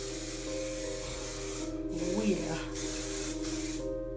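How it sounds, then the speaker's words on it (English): Several short hissing bursts from a hairspray can, spaced about a second apart, over a steady background hum with a brief spoken word. "So get that hairspray and spray away."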